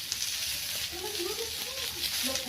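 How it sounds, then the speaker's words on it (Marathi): Garlic cloves and ginger roasting in a hot pan for a Latur-style rassa give a steady, close, crackling sizzle that runs through the whole moment, with faint voice-like tones underneath. "2-3 पाकळ्या लसूण आणि थोडंसं अद्रक, मस्त आपल्याला भाजून घ्यायचे"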